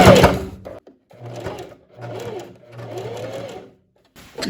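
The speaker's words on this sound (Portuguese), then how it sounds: "E vou aqui dar continuidade à costura reta de união." A sewing machine runs a straight joining seam on a fitted sheath dress, sounding close and steady in three separate bursts of stitching with brief pauses between them.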